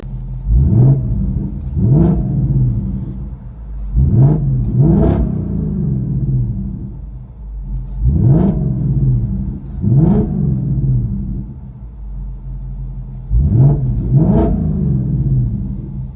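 From inside the cabin, a 2024 Ford Mustang GT with a 5.0 V8 and Borla ATAK cat-back exhaust revs repeatedly. Its deep, booming V8 rises in short bursts, often as double revs, then rumbles at idle between them. The sound is close and loud.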